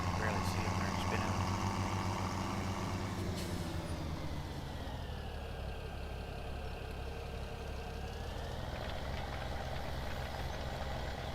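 A small tractor in the Farming Simulator video game runs with a steady, low engine drone and layered harmonic hum. It stays continuous and fairly loud for the whole stretch, with a slight dip in pitch midway.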